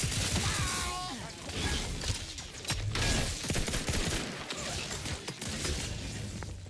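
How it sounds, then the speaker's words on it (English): Rapid gunfire in the Outer Worlds 2 video game, a burst of sharp shots with clanks and impacts over a noisy battle bed, with shouted voices mixed in. "Gun him down, damn!"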